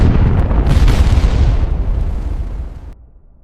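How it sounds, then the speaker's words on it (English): An atomic bomb explosion sound effect: a loud, deep roaring boom that rumbles heavily, then fades over about three seconds before cutting to near silence. "Exactly at that moment, the atomic bomb exploded."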